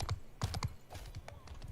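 Horse hooves clopping in the Bannerlord video game during a multiplayer skirmish battle, a quick uneven run of sharp thuds with faint background noise and distant combat clatter.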